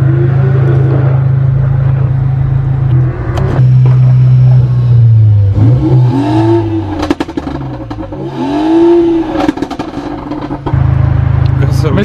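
A car engine idles loudly nearby, then is revved in repeated rising and falling bursts, with people talking over it.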